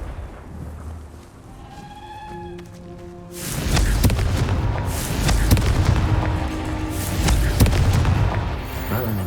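A Confringo explosive curse in Hogwarts Legacy goes off as a loud, booming blast that rolls into crackling, rumbling bursts and debris for several seconds, following some brief tonal spell-like chimes.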